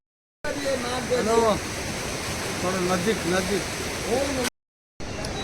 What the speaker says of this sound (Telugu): వాటర్ అనేది లోపల పెద్ద గుహ టైప్లో నుంచి వాటర్ వస్తాయని చూస్తారా